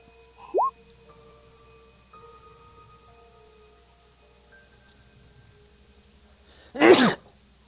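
A single sharp sneeze bursts out near the end, loud and close against a quiet room during a tabletop role-playing game session.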